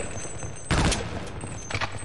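An M249 machine gun fires in Half-Life: Opposing Force, a short loud burst of rapid shots followed by a second, weaker burst, set against low game ambience.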